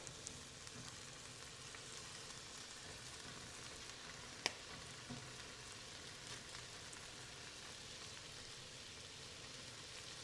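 Thin strips of beef sizzle in a pan for stroganoff, a faint, even crackling hiss that holds steady throughout, with one sharp click partway through and no voices.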